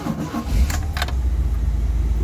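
An idling car engine in a workshop with its radiator cooling fan bridged to run constantly, a steady low rumble with a couple of brief clicks early on, close and continuous.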